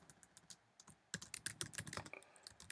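Typing on a computer keyboard, a quiet run of clicks that turns into a faster, denser burst of keystrokes in the second half. No voice is heard.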